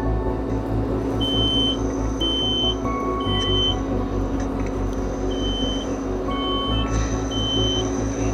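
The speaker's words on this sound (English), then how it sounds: "Smoke alarm initiated." A high electronic smoke alarm chirps in short repeated beeps over a constant low rumble of machinery or traffic noise, during a fire and sprinkler demonstration.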